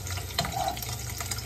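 Dried fish frying in a pan, a steady close sizzle with a brief stir or scrape partway through, no talking.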